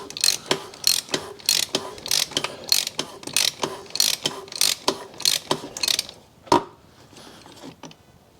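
Rapid ratchet clicks from a wrench tightening the plastic oil filter housing cap on a 2020 BMW 320i 2.0 petrol, loud and close in a steady run of bursts that stops about two-thirds through, followed by a few scattered knocks.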